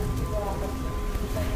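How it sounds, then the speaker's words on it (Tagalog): Raindrops falling at night outside the Manila Film Center, a steady dense patter of rain close by with faint voices murmuring beneath it. "maingay pa dito yung mga patak ng ulan"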